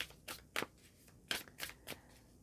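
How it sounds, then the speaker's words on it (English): Tarot cards riffle and slap in several quick, crisp bursts, close and fairly soft, in an irregular rhythm of shuffling. "Please bring out a card on the table for me."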